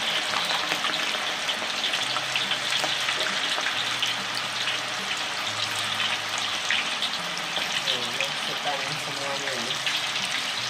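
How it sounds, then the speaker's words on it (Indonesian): Oil sizzles and crackles steadily as gourami fish and tofu fry in a pan, a dense hiss with faint talking beneath it. "Goreng-goreng hingga dia ada kecoklatan gitu ya."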